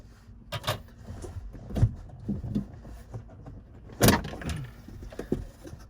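Several sharp plastic pops and clicks at irregular intervals as car interior trim clips pop out of a BMW F30, with muffled rustling and handling noise between them, close by.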